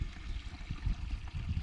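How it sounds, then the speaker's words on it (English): A small natural waterfall in a wild Scottish glen beside an abandoned village, heard as a steady close rush and gurgle of falling water with no talking. "It's like a natural wee waterfall."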